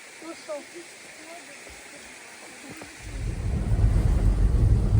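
Rushing water from a mountain stream below a waterfall near Truskavets rises to a steady, loud broadband roar after a few seconds, with faint chirps and soft ambience before it.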